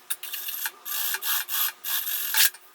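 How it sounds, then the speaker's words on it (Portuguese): Sewing machine running topstitching across synthetic leather scraps for a small zip pouch, in several short whirring bursts with brief pauses between them, close and fairly loud. "agora eu vou passar a costura em cima do azul"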